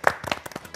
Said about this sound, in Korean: 다 같이 박수를 좀 드려야 될 것 같습니다